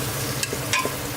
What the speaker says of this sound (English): So you can see the onions started sizzling already.